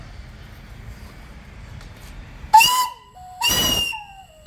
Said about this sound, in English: Whistle's real nice.